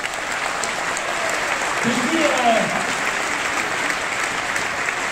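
Crowd applause fills a political rally hall for a candidate in Aubervilliers, a broad steady clapping wash with a voice briefly speaking over it.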